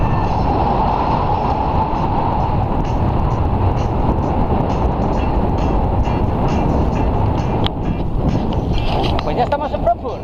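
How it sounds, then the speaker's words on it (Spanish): A tram passes along a street in Frankfurt with a loud, steady rolling rumble and wind noise close to the microphone, while voices can be heard underneath. "Mira qué tranvía más bonito."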